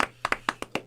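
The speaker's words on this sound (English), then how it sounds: "Everybody clap." A short burst of hand clapping, about six sharp, fairly close claps at uneven spacing, more like a few people than a full crowd.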